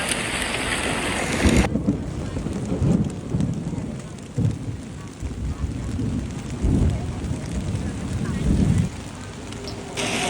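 Heavy rain pours steadily with gusts of wind and low rumbling as a Thai royal barge procession rehearsal passes, a voice talking intermittently underneath.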